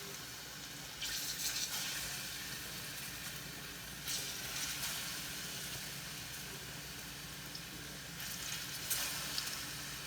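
Ripe plantains fry in hot oil, a steady broadband sizzle that stays close and fairly quiet, with brief louder crackling bursts now and then.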